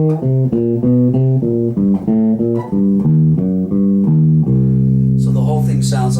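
In a jazz improvisation exercise, a four-string instrument picks descending three-note groups with chromatic approach notes in a brisk, even rhythm, then lets a low note ring out at the end.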